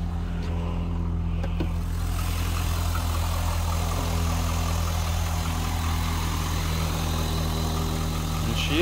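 The engine of a 2004 Corvette coupe idles steadily and close by, a smooth low rumble with an even hum holding throughout, with no one talking over it.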